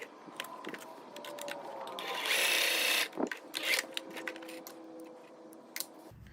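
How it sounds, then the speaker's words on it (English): A sewing machine stitches across fabric for a homemade neck cooling wrap, with a close rapid whirring run in the middle framed by clicks and handling noises. "I will go ahead and sew across that"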